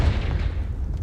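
A Confringo fire-blast spell bursts in Hogwarts Legacy: a deep, heavy booming explosion, loud and close, its low rumble fading quickly over about a second.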